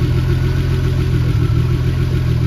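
A French Alpine A610 turbo's V6 engine idles steadily after starting, a low, even rumble that holds for the whole stretch with no voices.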